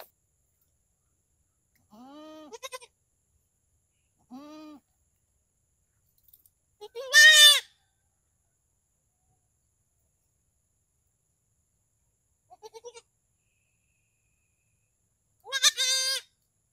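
Goats bleating on a farm field where they graze: several separate calls spaced apart, a couple of them loud and close, the rest softer, with quiet between them.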